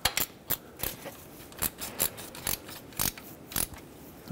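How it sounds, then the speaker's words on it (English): A ratchet wrench tightens the serpentine belt tensioner bolt on a 2013-2020 Nissan Pathfinder with a 3.5L V6, giving close, sharp metallic clicks in a steady rhythm about every half second, with no talking. "Okay, let's get this one tightened up."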